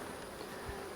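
Honey bees buzz steadily on hive frames while colonies are merged, a continuous, close insect drone with no talk over it.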